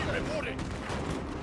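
Musket and cannon fire crackle in a Napoleon: Total War battle, a brief, faint burst of volleys in the game mix.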